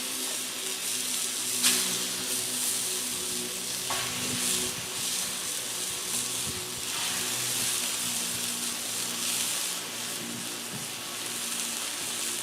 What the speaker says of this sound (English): we'll get these pork chops to cooking